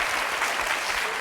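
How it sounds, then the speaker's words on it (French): A French TV game show studio audience applauds contestant Julie in a brief, dense burst of clapping from many hands, steady and fairly loud throughout. "Alors je voudrais quand même qu'on applaudisse Julie."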